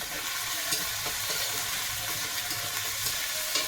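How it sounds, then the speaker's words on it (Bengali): Potatoes fry in a pan, cooked covered until soft, giving a loud, dense and steady sizzle close by, with faint stirring ticks and no speech. "ঢেকে ঢেকে ভাজা করলে আলু কিন্তু একদম গলে গেছে"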